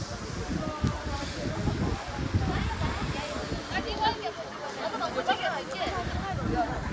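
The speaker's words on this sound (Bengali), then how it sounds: "প্রচণ্ড জোরে এখানে হাওয়া দিচ্ছে।" Strong wind gusting at Buddha Park in Ravangla, Sikkim, where prayer flags flap hard, giving a steady broadband roar with buffeting low rumble throughout, with faint crowd chatter in the background.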